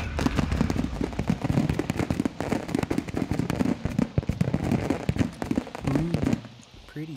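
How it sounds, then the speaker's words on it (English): Fireworks burst in Call of Duty: Modern Warfare 2, a dense run of sharp crackling pops and bangs in rapid irregular succession that cuts off abruptly near the end. "Pretty fireworks."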